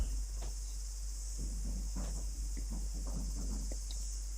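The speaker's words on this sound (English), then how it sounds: "I can hear the cicada well" Cicadas drone in a steady high-pitched buzz that holds throughout, faint and distant, under a low continuous hum and a few soft rustles or taps, with no talking.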